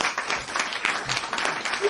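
Steady applause from a group during a studio discussion program, dense and continuous for about two seconds with faint talk underneath.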